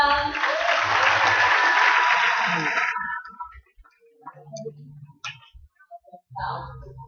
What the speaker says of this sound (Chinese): 那要不要给我们活动组一个掌声？